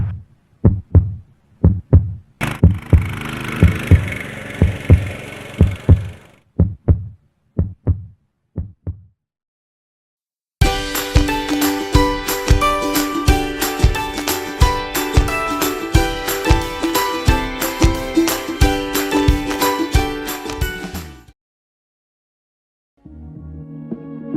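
A Baja Warrior 200cc minibike engine on its first ride, with rhythmic putting pulses, a rising rev with a high whine, then a steady loud running drone that cuts off and briefly restarts.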